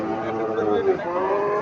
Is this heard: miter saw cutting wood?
no